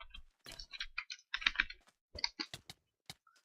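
Fast typing on a computer keyboard during a Minecraft PvP match: close, crisp key clicks in rapid irregular bursts with short pauses between them, alone with no talking.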